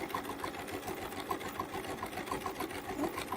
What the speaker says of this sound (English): A little slow stitching at the beginning for tacking, and then you can proceed to a normal pace.